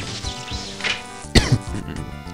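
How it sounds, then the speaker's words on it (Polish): A single cough bursts out close to the mic over ongoing System Shock game sounds, followed by a second smaller throat sound. "kiedy przestanę kaszleć?"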